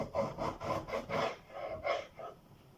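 A knife cuts through an apple for an apple crumble, giving a rhythmic run of close, rasping sawing strokes that slow and fade toward the end.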